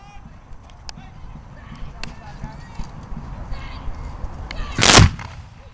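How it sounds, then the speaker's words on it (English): A musket volley rings out at a Fort York Simcoe Day War of 1812 reenactment, smooth-bore muzzle-loading guns firing together in one sharp, distant crack amid outdoor crowd noise and faint chatter. "crisp volley from the Fort York Guard"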